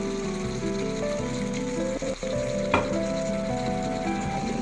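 Bitter gourd stir-fry for ginisang ampalaya sizzles steadily in a hot pan as a splash of hot water and fish sauce goes in, a loud continuous frying hiss with a brief clatter midway.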